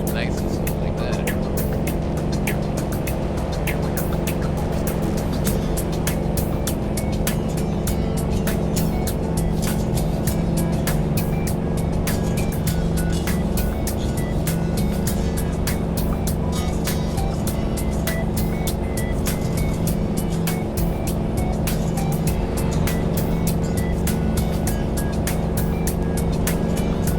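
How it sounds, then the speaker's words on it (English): A Kenworth T2000 truck engine drones steadily in American Truck Simulator, a constant even rumble while cruising, with talk over it throughout. "I gotta hear the engine"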